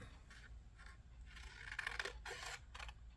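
Scissors trim paper for a craft booklet, giving a few quiet scraping snips and rustles at close range over a low background rumble, with no talking.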